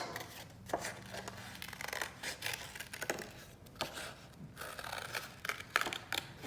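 Scissors snipping through paper to cut out cartoon-like paper hands, a run of quiet, close, irregular cuts and rustles with no talking.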